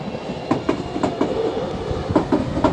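A train passing on the railroad tracks near Imajuku, heading west towards Karatsu, with a steady rumble and rhythmic clickety-clack of wheels over rail joints, close and fairly loud, with no talking.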